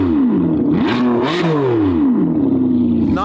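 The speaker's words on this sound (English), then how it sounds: "Can you give it a few revs for us?" A supercar fitted with an aftermarket exhaust is revved a few times nearby, loud engine pitch sweeping up and dropping back with crackly rasps between the blips.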